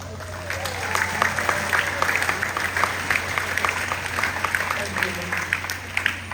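Applause at a college commencement ceremony in Pohnpei, many hands clapping in a continuous, moderately loud patter, with scattered sharper claps and faint voices underneath.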